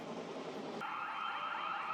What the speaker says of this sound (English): those alarms are from all the different bars and shit on 4th Street